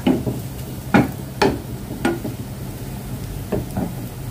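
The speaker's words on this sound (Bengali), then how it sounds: "এটা হচ্ছে যে পেঁয়াজ বেরেস্তা করতেছি" Onions frying for birista over a low sizzle, punctuated by several close, sharp knocks of a spatula against the pan at irregular intervals.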